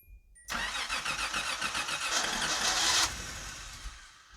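A car engine cranks with a rapid rhythmic churning for a few seconds, then cuts off without catching, heard close up.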